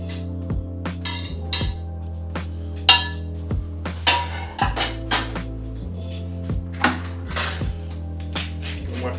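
Cacio e pepe pasta being gathered and plated from a pan, with repeated metallic clinks and scrapes of utensils against the pan, close and steady with short pauses between strokes.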